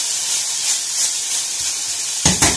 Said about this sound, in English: we're going to brown the mince for a few minutes